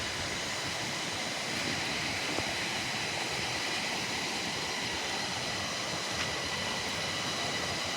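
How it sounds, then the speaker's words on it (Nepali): Two hill streams merging near Bhojpur, Nepal, rushing in a constant, dense wash of water noise that holds steady throughout, close and unbroken, with no one speaking. "दुईटा खोलाको मिश्रण भएको ठाउँ हो यो चाहिँ"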